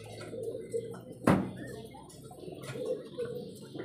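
Soft, low pigeon coos recur near the mic from pigeons bred for tumbling flight, mixed with light background chatter and a sharp knock or clatter partway through.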